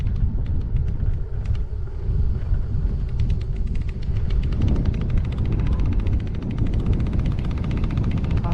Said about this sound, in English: A little bit windy, but it's not cold.